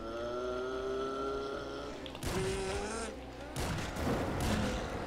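Rapid bursts of gunfire crack through GTA Online's zombie survival mode, arriving in loud clusters over an engine-like drone and other game noise.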